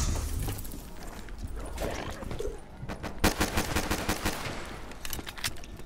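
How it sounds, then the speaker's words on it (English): Rapid bursts of gunfire from Call of Duty: Black Ops 3 Zombies on the Kino map, loud and dense with a sharp crack near the middle and continuous firing throughout. "Why are you shooting on the ground?"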